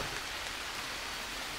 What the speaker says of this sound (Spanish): Ahora que está lloviendo, esto que es agua sucia